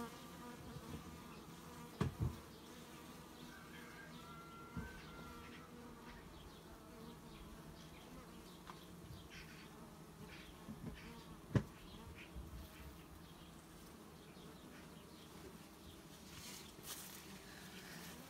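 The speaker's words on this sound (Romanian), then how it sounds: "Sper să nu mai omor nicio albinuță." Bees buzz around a honeycomb frame during a sunflower honey harvest, a constant close swarm drone with a few soft knocks and handling clicks.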